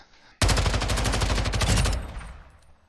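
Rapid automatic fire from an SO-14 rifle in Warzone 2.0, a loud sustained burst of closely spaced shots lasting about a second and a half, then a fading echoing tail.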